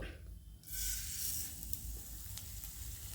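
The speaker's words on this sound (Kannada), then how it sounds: "ಇದನ್ನು ಸ್ವಲ್ಪ ಚೆನ್ನಾಗಿ ಹೀಗೆ ಸ್ವಲ್ಪ ಕೆಂಪುಗೆ ಹುರ್ಕೊಂಡು ಇಟ್ಕೊಳ್ಳೋದು" Semolina (rava) roasting in a spoonful of oil in a pan, a soft hiss that swells into a steady close sizzle with light stirring scrapes.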